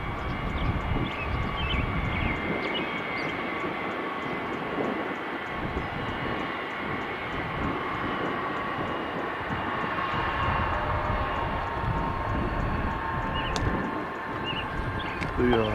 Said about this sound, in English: The flight taking off is not on my flight radar.